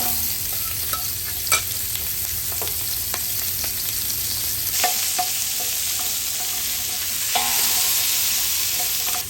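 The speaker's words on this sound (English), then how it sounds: "We're going to brown these vegetables off and we're going to be using this in our pot roast." Vegetables browning in a pan for pot roast, a steady close sizzle of frying with occasional scrapes and taps of a stirring utensil, and no voices.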